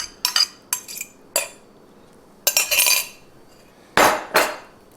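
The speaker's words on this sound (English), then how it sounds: "Try to get it around, and we're going to stir it all in." Metal utensil clinking and scraping in a pan while Korean beef with sauce is stirred, in several short bursts separated by pauses, close and fairly clear with no talking.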